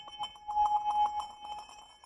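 A small bell rings in quick, uneven shakes, its bright metallic tone sustaining faintly between strikes, fairly quiet and close.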